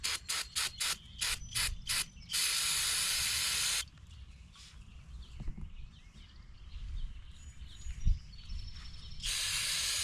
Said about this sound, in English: Just going to use some carb cleaner,